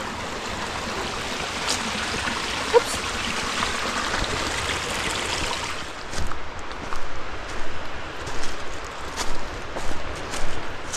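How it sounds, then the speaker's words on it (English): A small stream at a water crossing on a woodland hiking trail gives a steady, close rush of flowing water. It eases into softer trickling, broken by a few footstep-like thumps and scuffs. "here's a little water crossing."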